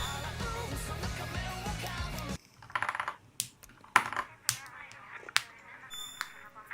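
A small osu! keypad with Cherry silver switches and black keycaps clicks in scattered sharp taps and short bursts, close and fairly quiet, after a stretch of background music.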